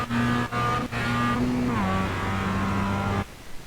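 A race car at speed on the Mid-Ohio road course during a fast lap, its engine note a steady loud harmonic whine with two brief gear-shift dips early on, then a pitch drop as it slows into a corner before cutting off.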